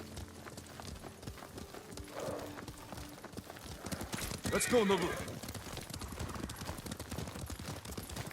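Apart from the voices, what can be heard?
horse hooves clip-clopping while riding, video game Ghost of Tsushima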